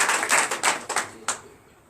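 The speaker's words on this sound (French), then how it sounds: "Donnez l'acclamation à Jésus." Congregation clapping in acclamation during a morning prayer service in Benin: a short burst of several sharp claps, fairly close and moderately loud, tapering off into a final single clap and quiet.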